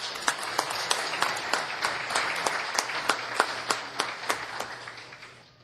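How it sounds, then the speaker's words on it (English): Applause at a city council regular meeting in Baldwin Park, a room of people clapping steadily with sharp individual claps on top, moderately loud and tapering off toward the end. "Let's give her a round of applause."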